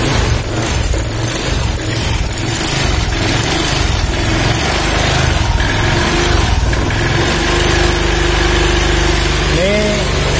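Fuel-injected motorcycle engine with its air filter removed, starting and running at a loud idle close by, with throttle blips and a rising whine near the end.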